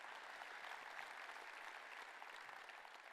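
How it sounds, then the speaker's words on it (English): A keynote crowd at Microsoft Ignite Australia 2015 gives a sustained round of applause, an even, faint and somewhat distant patter of many hands with no voices over it. "Can we just give Brad another round of applause as well?"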